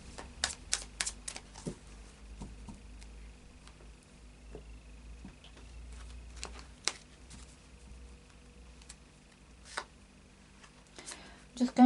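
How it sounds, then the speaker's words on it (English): Tarot cards shuffled and riffled in short bursts of papery flutter, close by, with soft taps and pauses between shuffles. "just do a final shuffle of the Tarot of Dreams."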